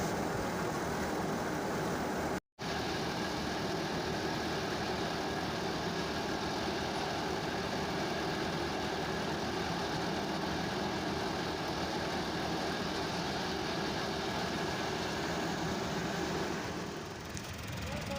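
A berseem seed threshing machine's engine runs steadily, a loud continuous droning rumble outdoors in strong wind, with one brief cut partway through.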